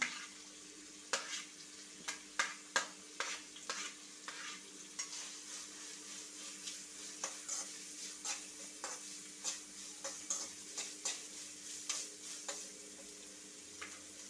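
Carrot pieces stirred and sautéed in a pan for a bread pocket filling: a steady soft sizzle under repeated scraping strokes of a spoon against the pan, close and fairly quiet, with no talking.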